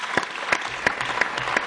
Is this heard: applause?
yes